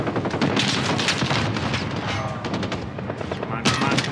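Rapid automatic gunfire from a Modern Warfare campaign battle, dense continuous bursts with sharper shots near the end, loud and close, with shouted talk mixed in.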